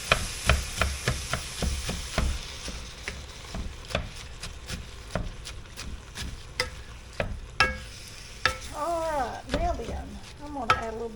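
Peppers cooking in a pan for a stuffed pepper casserole, a spoon repeatedly scraping and knocking against the pan over a low sizzle, with brief voice sounds near the end.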